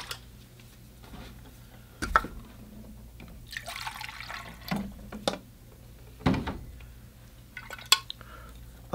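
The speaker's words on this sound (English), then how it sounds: "I'm gonna get some fresh water." Fresh water being fetched for watercolor painting: scattered light clinks and splashes of water in a container, a few sharp knocks among quieter trickling and dripping, close by with no talking.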